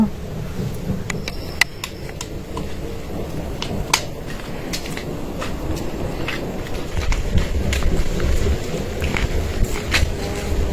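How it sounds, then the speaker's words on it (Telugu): Rain falls steadily at night in a mango orchard with a broad hiss, punctuated by scattered sharp crackles and taps; the downpour grows a little heavier toward the end. "చిన్న వాన పడట్లేదు"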